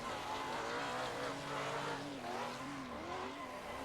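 Tires squeal steadily as a car understeers and drifts through a corner in Assetto Corsa, the engine note wavering under the screech, continuous and fairly close for a few seconds.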